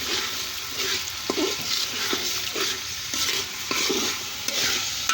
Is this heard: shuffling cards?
no